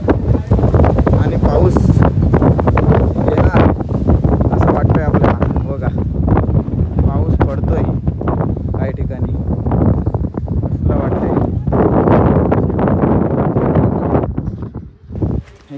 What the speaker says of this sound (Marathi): आता कडे पठारावर या ठिकाणी आल्यानंतर एक वारा वेगळीच हवा असते